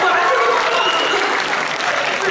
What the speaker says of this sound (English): You just like to applaud random items and clothing.